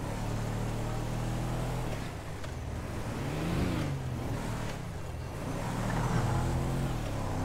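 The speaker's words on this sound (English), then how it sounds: "enjoy the engine power sounds" A video game car engine drones steadily, its pitch rising and falling as it revs through gears, with no voices.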